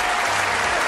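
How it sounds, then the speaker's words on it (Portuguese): A crowd claps steadily for a singer on a televised talent show, a dense, even burst of applause with no pause. "Uma salva de palmas para o Renato"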